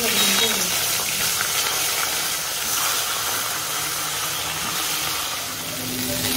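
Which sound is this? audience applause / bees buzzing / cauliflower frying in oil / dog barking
cauliflower frying in oil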